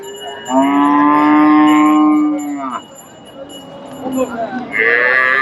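A Sahiwal bull lets out a long, loud, close moo at a cattle market, followed by a second lowing call near the end, with market chatter and other animal noises around it.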